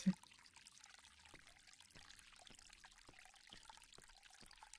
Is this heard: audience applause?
no